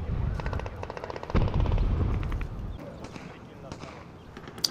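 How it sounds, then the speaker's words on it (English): Distant gunfire in Modern Warfare III, a rapid machine-gun rattle in quick bursts that fades over a few seconds, with a voice talking over part of it. "There's a lot of shooting going on over there"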